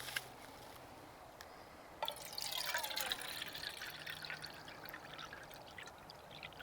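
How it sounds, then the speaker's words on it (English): Water poured into a small pot for a backpacking camp stove outdoors on a log, a steady close trickle that starts abruptly, swells into a splashing fill, then continues as a softer stream, with no talk. "I think I'm only going to put 400 milliliters of water in here"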